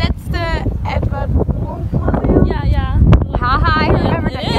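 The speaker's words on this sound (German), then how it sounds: "oh my gosh, so much wind. Yeah, it's really windy." Strong outdoor wind in Oslo, Norway buffets the microphone with heavy, rumbling gusts, while people talk excitedly over the roar throughout.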